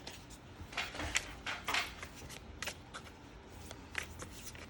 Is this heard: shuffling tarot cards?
yes